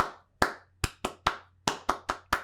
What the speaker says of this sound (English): you think he's like kind of doing a Morse code clap?